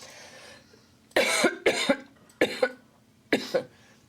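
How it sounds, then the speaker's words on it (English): A man in a GP's consulting room coughs in four separate short bursts, each a pair of harsh, close hacks, following brief breathy sounds with quiet room noise between. "I feel like coughing now."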